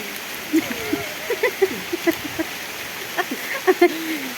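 Steady rain hisses throughout, broken by scattered sharp taps of hail striking nearby, while voices talk intermittently underneath.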